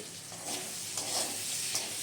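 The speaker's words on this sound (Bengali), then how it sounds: "এবারে এগুলোকে নেড়ে চেড়ে নিয়ে আরও দু তিন মিনিটের জন্য ভেজে নেব" Tomatoes fry and sizzle in a pan while being stirred, with scraping strokes of the spoon rising over a steady hiss, close and clear, no voices.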